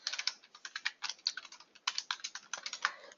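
Fast typing on a computer keyboard while entering search terms, a close run of crisp key clicks in irregular bursts with short pauses, alone and fairly quiet.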